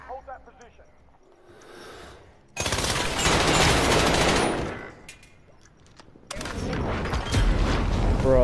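Bursts of automatic machine-gun fire in a Call of Duty Modern Warfare multiplayer match, two loud sustained volleys separated by a quieter gap, with a player's voice talking over the game audio.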